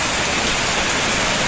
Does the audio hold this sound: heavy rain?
yes